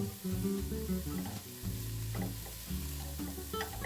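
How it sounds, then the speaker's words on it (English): Vegetables with minced garlic, thyme and rosemary sauté in a pot, sizzling steadily and close up while a spoon stirs them with soft scraping knocks, and nobody speaks. "then we'll add 2 minced cloves of garlic and 1 tablespoon each of minced thyme and rosemary, and cook for 1 more minute"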